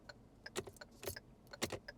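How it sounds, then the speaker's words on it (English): Quiet plastic clicks from the indicator stalk of a Hyundai i10 being flicked back and forth inside the car, several soft, close ticks in an irregular rhythm. "It's the best stalk noise."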